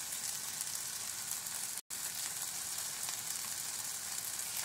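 Elote and seasoned food sizzling in a pan, a steady close frying hiss that continues throughout with one brief dropout.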